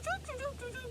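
A voice imitates an American robin song with a quick run of short, warbling whistled phrases rising and falling, delivered softly and briefly against a quiet background.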